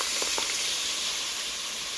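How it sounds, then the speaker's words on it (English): Tomatillo sauce poured into a hot pan over golden-browned food sizzles with a loud, steady hiss that fills the whole moment, with no talking over it. "Ooh, that sizzle."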